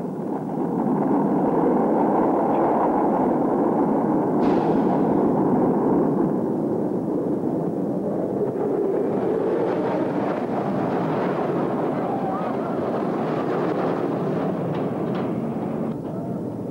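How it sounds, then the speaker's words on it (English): A rocket engine ignites at launch with a sustained, loud broadband roar that swells and rumbles continuously, building in intensity toward the end. "Ignition sequence start. Firing command coming in now."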